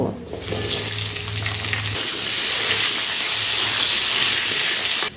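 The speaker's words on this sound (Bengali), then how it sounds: "এখন আমি এর মধ্যে দুটো আলু দিয়ে ভেজে নেব" Potatoes frying in hot oil with cumin seeds and bay leaves, a loud, steady sizzle and hiss throughout with a low clatter at the start, no talking.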